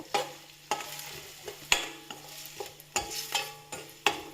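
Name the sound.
onion frying in pan with salt, stirred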